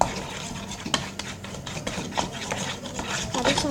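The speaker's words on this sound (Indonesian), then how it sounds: "Aduk sampai benar-benar rata ya guys" A spoon stirs white glue in a bowl while slime is being mixed, giving a steady soft scraping rub with a few sharper clicks against the container, close and alone.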